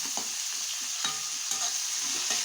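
Whole garlic cloves and ginger-garlic paste fry in a pan for chicken kosha, with a steady close sizzle and a few light stirring scrapes over a brief stretch.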